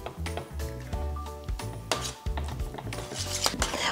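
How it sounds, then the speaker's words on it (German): A metal kitchen grater is wiped clean between layers of a Russian herring salad, giving a close run of scraping, rubbing and light metallic clinks with a few sharper knocks, and no talking. "Und nach jeder Schicht mache ich auch meine Reibe sauber."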